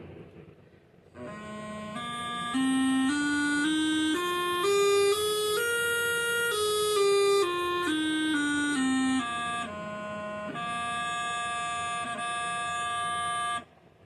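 A reedy, buzzing bagpipe practice chanter with a yellow reed plays a bright stepped melody, rising and falling, loud and close, with no talking.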